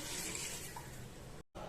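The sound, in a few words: water added to pot for cooking goat leg paya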